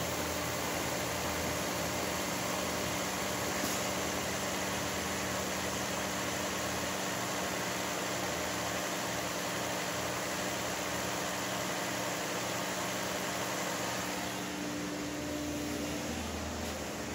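A 2008 Chevrolet Malibu LTZ idles steadily in drive, a constant low engine hum under broadband hiss for the whole stretch, with no voices.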